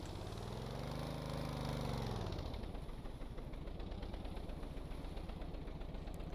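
A simulated engine in the Stormworks video game runs at full throttle, a droning hum that rises in pitch, then settles into a steady, even buzz, heard alone.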